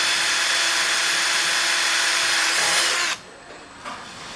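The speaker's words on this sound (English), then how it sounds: "you're just going to want to go ahead and drill a new hole in your fence" A power drill drilling a hole in a fence whirs steadily at high speed for about three seconds, then stops abruptly, followed by a short softer burst.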